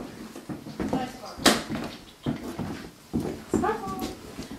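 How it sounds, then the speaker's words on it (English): Cats loose in a shelter's community room, with a few short mewing cries and small scuffling sounds mixed among nearby people talking. "More cats."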